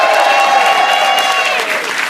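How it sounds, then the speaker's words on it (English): An audience gives a round of applause, loud and close, a dense wash of clapping that runs steadily for about two seconds with a tonal hum beneath it. "Everybody get their round of applause."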